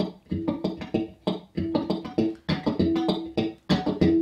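Acoustic guitar picked with a percussive, thumping attack, bright plucked notes in a steady, bouncy rhythm, played close and unamplified.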